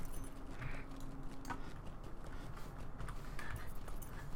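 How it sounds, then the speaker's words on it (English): Goat mount's hooves running in the LOTRO video game, a steady rapid patter of soft clip-clop steps at moderate level over a continuous ambient background. "I didn't realise your goat was running."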